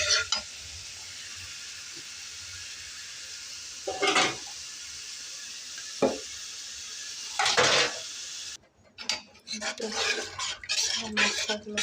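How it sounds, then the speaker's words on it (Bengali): Spices stirred and fried in a pan for chicken biryani, with scraping spoon strokes and clinks at intervals over a steady low sizzle, then a busier stretch of clatter near the end. "মশলাগুলো কষিয়ে নিয়ে"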